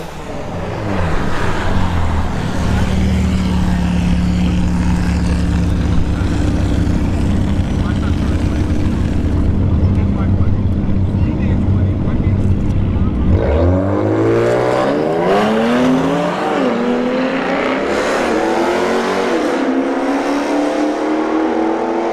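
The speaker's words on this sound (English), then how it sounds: "Genesis G70 versus the Charger SRT8" At a drag strip, a Genesis G70 and a Dodge Charger SRT8 race, with a sustained loud engine roar building for several seconds before cutting off, followed by a lighter, shifting mechanical drone as the cars pull away.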